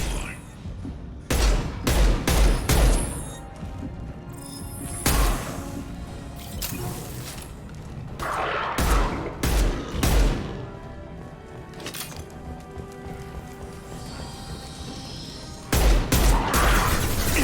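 Video game gunfire in Mass Effect: Legendary Edition comes in heavy, booming bursts and thumps, loud and close, with quieter gaps between volleys and a player speaking at times.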